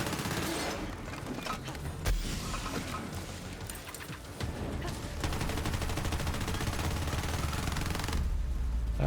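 Rapid automatic fire from an Incendiary Lucian's Call rifle in Borderlands 3 rattles on continuously for several seconds, a dense and moderately loud stream of shots with brief dips, with no voices over it.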